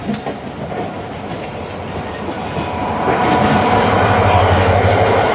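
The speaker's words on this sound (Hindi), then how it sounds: "ये 151 अब शाह लतीफ़ एक्सप्रेस है जो कि कराची से मीरपुर खास के दरमियान चलती है" Shah Latif Express passenger train passing close by, a loud steady rumble of wheels and carriages building in intensity, with rattling and a faint squeal of wheels on rail.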